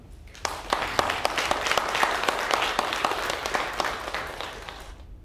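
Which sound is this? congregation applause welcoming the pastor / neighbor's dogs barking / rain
congregation applause welcoming the pastor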